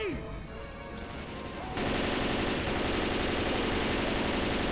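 Rapid gunfire in the zombie shooter Left 4 Dead 2, sustained dense automatic shooting that kicks in and continues loudly to the end, following a quieter stretch of game noise.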